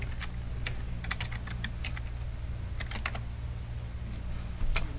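Password being typed on a computer keyboard, a quick run of light key clicks in small bursts with pauses, close and clear over a low steady hum.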